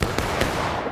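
A musket volley in a video game skirmish, heard as a dense crackle of overlapping gunshots with a few sharper reports inside a continuous burst, close and loud.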